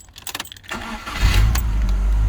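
A car's starter cranks in quick uneven bursts before the engine catches and settles into a loud, steady idle, heard up close with no talk, following a repair of the starter motor.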